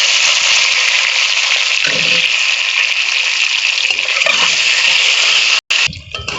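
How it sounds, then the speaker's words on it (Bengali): Eggs fry in hot oil with turmeric in a wok, a loud continuous sizzling hiss that runs steadily, with a couple of low stirring thumps and a short break near the end. "এবার আমি ডিমগুলো ভেজে নিচ্ছি দিয়ে।"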